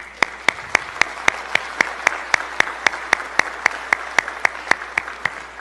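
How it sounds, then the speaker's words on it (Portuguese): An audience claps at a tribute event honoring a Federal Police clerk, though the claps come as sparse, sharp, evenly spaced single strikes, about four per second, crisp and fairly near, with no voices over them. "Uma salva de palmas."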